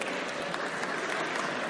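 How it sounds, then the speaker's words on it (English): A college lecture audience cheers and applauds loudly in a steady, dense wash of clapping and crowd noise, with no clear individual voices. "loud cheer for boobs"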